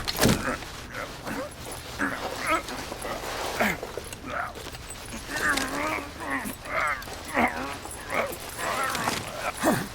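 A street dog in Call of Duty: Black Ops Cold War barks and yips repeatedly in short, uneven bursts, fairly close, with whimpering touches and a busy game background.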